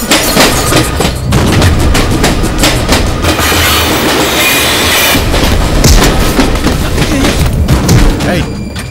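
A moving train rumbles and clatters, with loud rhythmic clicks and thumps from the wheels and carriage, close and continuous, under other noise.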